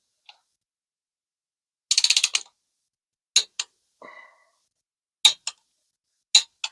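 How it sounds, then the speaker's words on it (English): Torque wrench set to 20 pounds clicking while tightening transmission bolts in a star pattern: a loose cluster of sharp ratcheting clicks, then several short separate clicks with quiet gaps, close and fairly loud with no talking. "Torque wrench here set at 20 pounds"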